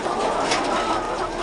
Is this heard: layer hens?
yes